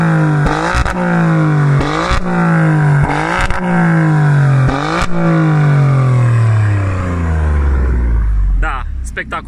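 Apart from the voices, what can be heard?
Alfa Romeo Stelvio QV exhaust revving in race mode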